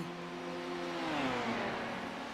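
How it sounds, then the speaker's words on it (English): Porsche race car engines in a virtual endurance racing game rev and drone steadily at a distance, one tone sliding downward as the cars run close together. "Those two Porsches are battling up."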